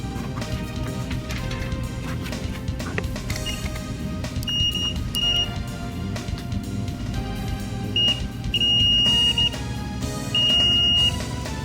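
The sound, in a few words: multimeter continuity test beep on a Sega Dreamcast fuse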